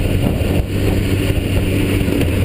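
A motorcycle engine hums steadily with the throttle wound on, low and constant beneath heavy wind buffeting on the microphone.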